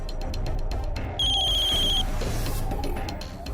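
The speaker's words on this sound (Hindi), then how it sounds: "बलदेव जी का फोन।" A telephone gives a short electronic ring, a bright tone lasting under a second over a low background hum, then fades into quiet room noise.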